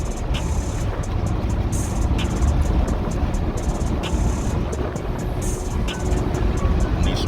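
Several cars roll out of a lakeside car show as it ends, a steady broad engine and road rumble with passing vehicles and faint intermittent high clicks, no talking.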